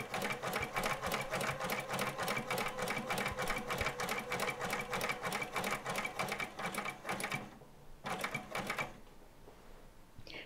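A sewing machine stitches denim jeans in a fast, steady mechanical chatter of needle strokes, close and clear. It pauses briefly near the end, then runs a short final burst and stops.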